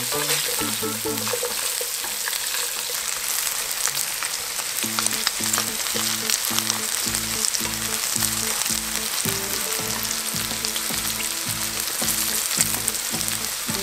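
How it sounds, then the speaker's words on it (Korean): Three bulbs of garlic frying in hot oil, a loud continuous close sizzle with crackling that runs the whole time under a repeating low tonal pattern, with no talking. "노릇노릇 튀기면 낼게요"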